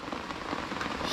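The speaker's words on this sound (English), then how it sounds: "It's raining the hardest." Heavy rain pours down on a canoe trip in the Adirondacks between Long Lake and Tupper Lake, a dense, loud and steady patter of drops striking surfaces, with no one talking.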